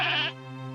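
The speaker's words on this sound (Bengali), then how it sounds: "রাজ্জাক জোরে ছাগলের দড়িটা টেনে ধরতেই ছাগলটার পা ভেঙে যায়।" A young goat gives a single short, high bleat as its leg breaks while being yanked by a rope, the cry lasting a fraction of a second before a low held tone.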